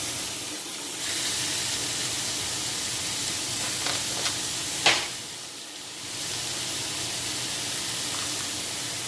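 Pork sizzling in hot oil in a frying pan, a steady close hiss running throughout with a brief louder crackle partway through.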